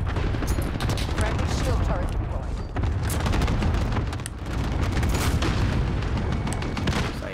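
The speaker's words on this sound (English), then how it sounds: "Enemy cluster strike." Cluster strike explosions in Call of Duty Modern Warfare, a dense, continuous barrage of booms and rattling blasts that stays loud throughout, with talking mixed in.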